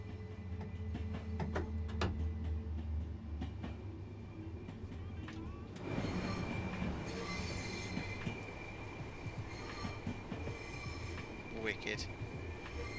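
Electric traction power cutting out on a BR Class 377 electric train in Train Sim World 2, on the East Coastway line. Steady train rumble with a low hum drops away midway, then brighter rattling and wheel noise continue under a man's speech.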